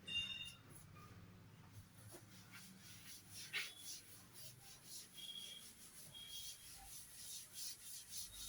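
Writing being rubbed off a classroom board with a duster, a soft, quiet scraping and rubbing in uneven strokes, faint and close.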